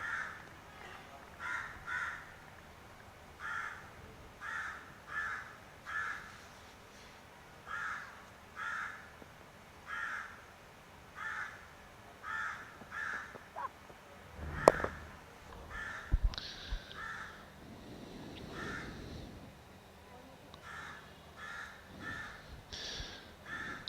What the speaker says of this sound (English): Very noisy crow as well.